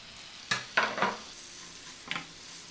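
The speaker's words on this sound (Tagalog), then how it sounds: "Pag mag-start na siyang mag-caramelize, ilagay na natin ang chicken." Chicken pieces sizzle as they drop into a pan of caramelizing honey glaze, with a few sharp bursts of frying hiss in quick succession and then a quieter crackle, close up with no talking.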